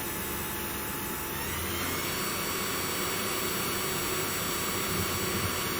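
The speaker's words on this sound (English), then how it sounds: "Actually, the noise that you can hear is the fan on the top" A CNC machine spindle running at high speed on an SMC5 controller setup, with the cooling fan on top producing a steady, loud whooshing whine that holds constant throughout.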